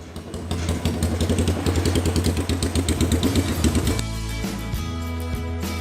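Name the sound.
2010 Yamaha Scorpio bobber softail motorcycle engine running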